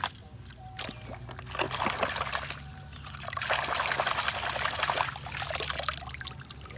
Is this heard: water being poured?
yes